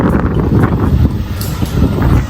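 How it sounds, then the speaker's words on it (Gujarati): Strong wind buffets the microphone in loud, continuous rumbling gusts on a road in Surat during a storm, with no voices. "ફૂલ પવન આવે છે રસ્તામાં"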